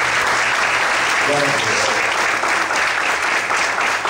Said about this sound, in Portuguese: Você pode desocupar sua mão, aplaudir o Senhor com forte.